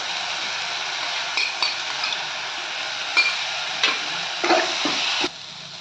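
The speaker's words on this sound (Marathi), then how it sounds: "आता आपण ढबू मिरची घालूयात आणि ढबू मिरचीला सुद्धा परतून घेऊयात" Capsicum with ginger garlic paste sautéing in a pan for pav bhaji, an even steady sizzle broken by several sharp spoon clinks and scrapes against the pan, no voices.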